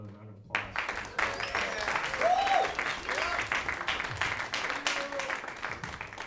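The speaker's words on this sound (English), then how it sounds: "Can we get another round of applause?" Recital audience applauding a band after a senior trombone recital, a steady dense roar of clapping sustained throughout, with a few voices calling out over it.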